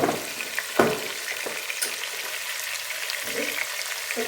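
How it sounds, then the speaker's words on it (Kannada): Onions fry in a pan after a pinch of salt, a steady close crackling sizzle with a few sharp clinks and stirring scrapes near the start and again toward the end. "ಬೇಗ ಆನಿಯನ್ ಫ್ರೈ ಆಗುತ್ತೆ"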